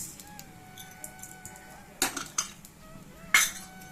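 Peanuts and lentils roast in a pan while a metal spoon stirs them, giving sharp scattered clinks and scrapes against the pan over a quiet background, with a few louder knocks near the end.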